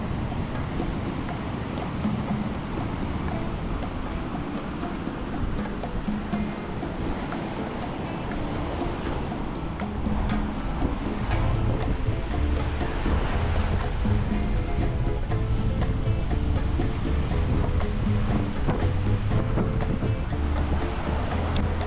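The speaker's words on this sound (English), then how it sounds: "We gathered our things and went for a walk down the beach at Long Bay." Ocean waves wash onto the beach at Long Bay in a steady, full rush of surf, with some wind buffeting the microphone and no clear voices.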